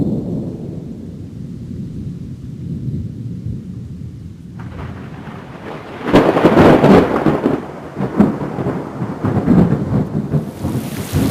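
Rain falls steadily while low rumbling thunder rolls, then a loud, crackling thunderclap breaks out as heavy rain continues, building a stormy scene.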